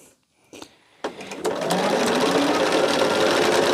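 A sewing machine stitches pieces of fabric for a quilt block, starting after a couple of faint clicks and then running in a fast, steady close-up whir that holds to the end.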